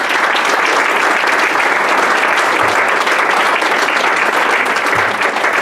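Steady, dense audience applause for Barry fills the room, loud and continuous clapping throughout with no break or talk over it.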